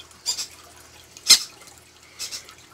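Liquid food drips slowly onto a towel while a baby bird is hand-fed, making three soft, separate wet drips close by in a quiet room.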